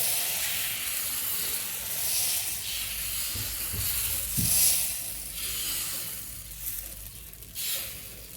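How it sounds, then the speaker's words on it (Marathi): Rice dosa batter sizzles on a hot tawa, a soft steady hiss close by with brief louder bursts as the batter spreads. "तर आपण आता इकडे डोश्यासाठी आपण पीठ घालूया"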